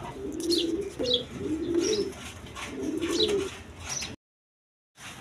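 Rajgolla pigeons coo in repeated soft, throaty phrases, close by, with faint chirps mixed in before an abrupt break in the sound.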